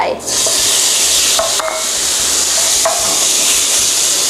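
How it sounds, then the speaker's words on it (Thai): Steady loud sizzling of squid and shrimp frying in a hot, lightly oiled pan, a continuous crackling hiss with occasional utensil clinks. "เราก็ตั้งกระทะให้ร้อนนะคะใส่ลงใส่น้ำมันลงไปนิดนึงพอ แล้วก็ใส่ลงไป"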